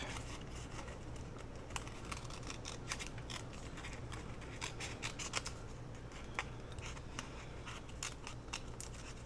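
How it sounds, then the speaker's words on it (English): Scissors snipping around the edge of paper for a journal page, quiet crisp cuts repeating in an uneven rhythm, close by with no talk. "And I'm cutting that white back."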